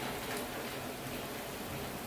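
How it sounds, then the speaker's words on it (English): Hail pelting down in a sudden hailstorm, a steady, dense, loud hiss of countless small impacts with no pauses and no voices. "We got hail."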